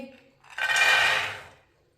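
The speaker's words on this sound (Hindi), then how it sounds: "चने डाल लेंगे।" A short rattling whoosh as soaked, washed black chickpeas slide into a pot, swelling and fading over about a second, close by.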